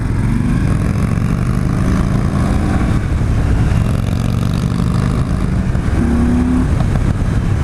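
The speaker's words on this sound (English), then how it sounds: "it sounds really good when you're going full throttle" A 2017 Victory Octane motorcycle engine roars continuously at full throttle and high revs, loud and close, with a steady throaty drone and slight pitch shifts.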